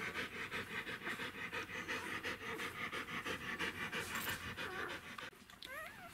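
A mother dog pants rapidly and steadily after giving birth to her second litter of wolfdog puppies, with close, rhythmic breaths, and faint squeaky whimpers rise near the end.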